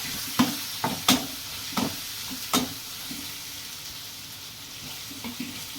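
Turmeric, Kashmiri chili and garam masala are stirred in a pan over a soft background sizzle, with several sharp spoon knocks and scrapes early on, then quieter stirring toward the end.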